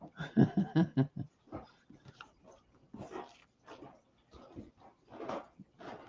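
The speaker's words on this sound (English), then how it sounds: "Here come the dogs." Dogs arrive indoors, giving a burst of close whimpering, yelps and short barks followed by scattered snuffling and softer whines, with people greeting nearby.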